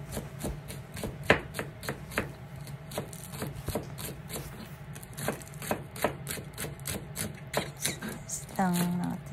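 A knife slices through small onion leaves on a cutting board, a steady series of crisp, close taps at a brisk rhythm, with a brief voice near the end.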